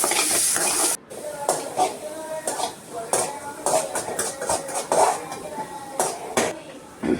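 Onions, tomatoes and green chillies sauté in a pan for an egg curry, with a steady low sizzle under repeated clanking spoon strokes against the metal pan; someone talks throughout.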